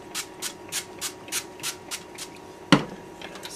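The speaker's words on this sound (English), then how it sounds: "I spray my pan" Short bursts of cooking spray hiss onto a pan before cooking steak, about eight quick puffs in a steady rhythm followed by a single sharp knock, close and fairly quiet.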